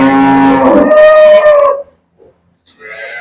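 A single long, loud water buffalo moo at a dairy farm, close by and sliding in pitch, followed by a brief pause and the start of another low call.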